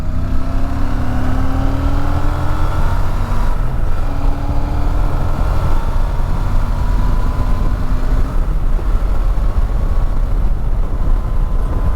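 A Royal Enfield Super Meteor 650 motorcycle, a 2024 model, accelerates onto a highway, its engine note climbing steadily through rising pitch sweeps over loud, constant wind and road roar, heard up close from the rider's position.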